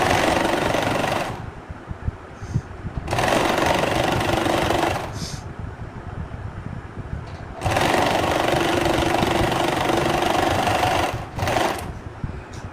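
A sewing machine stitches curtain fabric into a scrunchie, running in three long loud bursts of steady mechanical whirring separated by short pauses, followed by a brief final run.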